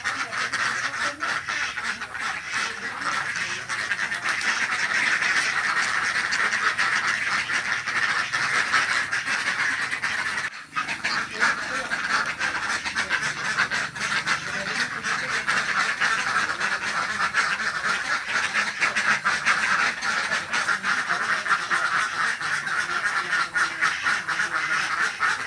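Laying ducks on a village duck farm in Gelebak Dalam quack continuously as a dense, loud flock, with overlapping calls throughout and a momentary dip partway through.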